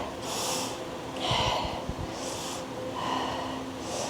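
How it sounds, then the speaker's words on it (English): Slow, deep breaths during a yoga class, each long inhale and exhale audible up close as a breathy, snorting rush of air, repeating several times with no talk. "5 deep breaths."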